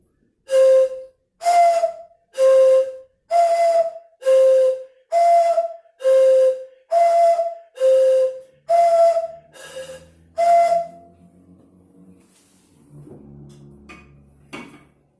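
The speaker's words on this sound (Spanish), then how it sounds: "Silbato de madera, pifulca." A Mapuche wooden whistle (pifulca) sounds eleven short, shrill, evenly spaced blasts, followed by faint clattering and handling noises.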